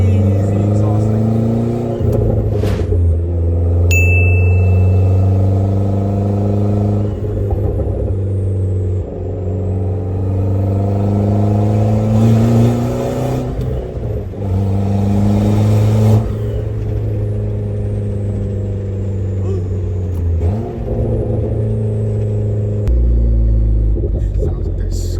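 A Hyundai Genesis with a catless exhaust rumbles up close, its deep engine note rising and falling through repeated revs over about twenty-five seconds, loud and continuous.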